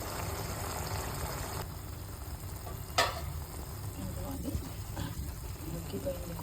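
Curry cooking in an open pan gives off a steady hiss of simmering and frying, with one sharp clatter and a few soft stirring bubbles and pops, and no voices.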